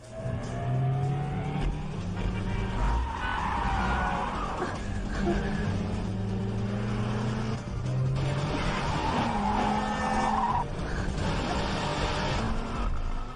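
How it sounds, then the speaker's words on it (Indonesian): A car driven recklessly at high speed, its engine roaring steadily and revving with rising and falling pitch, tires squealing at moments, loud and close throughout. "Gautam menyetir seperti orang gila dengan kecepatan tinggi."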